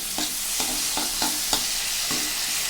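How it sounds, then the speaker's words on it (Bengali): Cumin paste sizzling as it fries in a pan, a steady hiss with regular spoon scrapes against the pan roughly every half second, close up and without speech. "এখন আমি সেই জিরে বাটা ছেড়ে দিলাম"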